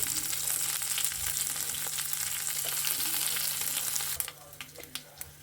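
Mustard seeds, a chili and cumin sizzle in hot oil for a tadka, a steady close frying hiss with scattered crackles and pops that thins out near the end.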